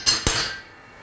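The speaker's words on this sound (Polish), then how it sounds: "Dokręcamy oczywiście leciutko, bo tutaj wielkich sił nie będzie potrzeba." A drill bit is tightened in the tailstock of a Dictum S 175 bench lathe, giving two quick metallic clicks followed by a short ringing decay, close and crisp.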